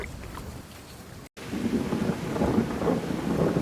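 Rolling thunder with steady rain, used as an atmospheric effect in a reading of T.S. Eliot's The Waste Land; a brief cut of silence, then louder sustained rumbling and rainfall, with no voices.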